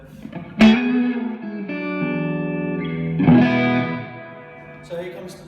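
Distorted electric guitar chords ring out with a crunchy tone and a wash of reverb, sustaining and fading between strums.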